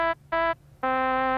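A mellotron playing its trumpet voice: three brassy, tape-replayed notes, two short bursts then a longer held tone, alone and fairly loud with a faint background hum.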